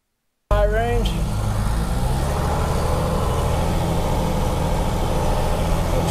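A Mercedes Unimog FLU419 tractor drives in high range, its heavy diesel engine giving a loud, continuous low rumble close by after a brief opening whine, with talk likely mixed in.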